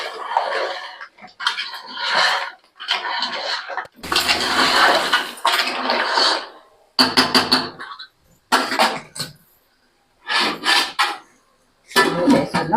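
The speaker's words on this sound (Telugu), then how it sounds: "ఇవి వేసుకున్నాం కదా మంచిగా కలుపుకుందాం" A spoon scrapes and stirs a vegetable curry in a metal pan, making close, loud rasping strokes in repeated bursts separated by short pauses, with no talk.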